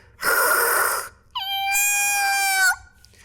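A person imitating a cat makes two loud, drawn-out meowing cries, the first breathy and noisy, the second a strained whining yowl, with a short pause between them.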